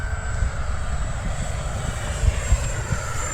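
An FMS F16 64 mm electric ducted fan RC jet flies overhead, giving a steady whooshing whine with a high tonal hum that stays at moderate distance throughout.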